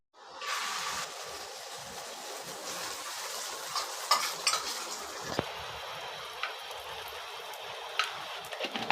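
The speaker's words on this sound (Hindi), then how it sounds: "फ्राई कर देती हूँ अंडा लगा के" Egg-coated potato tikkis hit a hot pan and burst into a steady, close sizzle, with occasional light clinks of a utensil against the pan.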